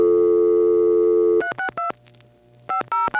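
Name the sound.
ITT Pentaconta crossbar telephone switch outpulsing, then cut through to trunk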